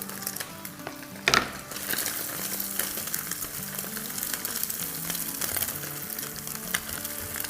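Diced bell pepper and small chopped carrot pieces sautéing in a hot pan for fried rice, a steady close sizzle and crackle with a brief scraping stir and clink early on, no talking.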